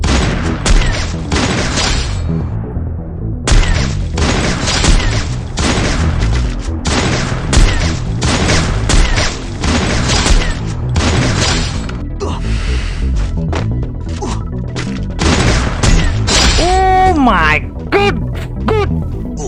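Rapid, loud gunfire bursts from the Free Fire battle game, sniper and other weapon shots cracking repeatedly in dense clusters, with a brief pause early on and a ringing electronic tone near the end.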